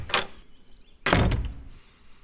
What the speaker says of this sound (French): Le loup tira la chevillette et la porte s'ouvrit.